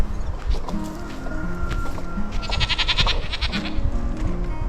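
Several sheep or goats on a homestead farm bleat over and over, their overlapping calls rising and falling at mixed distances, some close and loud, others farther off across the hillside.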